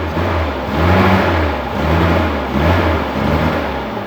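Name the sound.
Suzuki Carry engine running on petrol and gas mix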